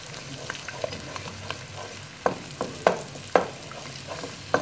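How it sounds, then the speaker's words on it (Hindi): Beaten eggs fry in oil in a pan with a soft, continuous sizzle, punctuated by a few sharp spatters and pops close by, and no voices. "अब इसमें 2 अंडे फेंट के हम डाल देंगे, 1 मिनट तक इसको पकने देंगे,"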